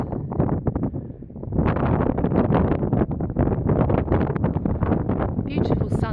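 Steady wind blows over flooded fields on a sunny country walk in Barrowden, Rutland, buffeting the microphone in a continuous roar while someone talks over it.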